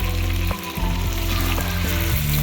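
Chicken kosha frying in oil in a pan, a steady loud sizzle with a few soft scrapes and knocks of a spoon against the pan.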